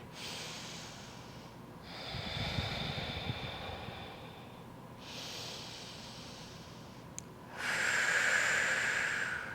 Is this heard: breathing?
yes